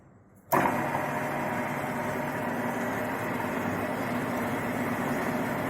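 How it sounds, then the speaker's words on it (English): A lathe cutting a thread, its carriage slowly feeding the tool along the workpiece, starts abruptly and then runs as a steady, loud mechanical hum and whir with no break. "can observe the carriage is slowly moving and the tool is touching the workpiece"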